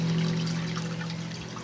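Water circulates steadily through a 20-to-40 gallon aquarium running two filters and a Top Fin 3000 series air pump, a continuous bubbling trickle and splash over a low, constant hum, close and unbroken.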